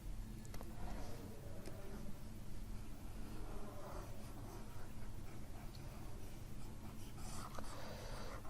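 An eraser rubs out handwritten maths equations with a continuous, faint scrubbing and scraping that runs without pause over a low background rumble.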